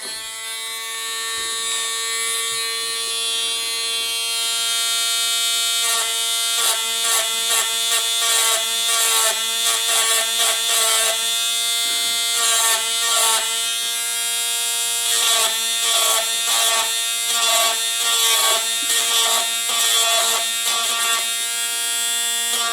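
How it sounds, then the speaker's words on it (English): A Dremel rotary tool with a small bit grinding metal at the front sight of an 1862 Pocket Police revolver: a steady high-pitched whine throughout, broken by rapid stuttering bursts as the bit bites into the metal, loud and close. "Now I'm going to take a Dremel tool with a small bit and try to grind the rest of that out."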